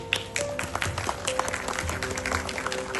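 Applause from a school event audience of parents, a steady patter of many hands clapping close by, with faint voices mixed in.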